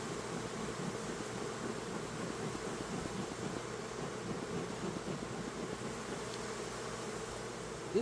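A honeybee hive lies open for inspection, its colony droning in a continuous close, even buzz that barely rises or falls, with no talk over it.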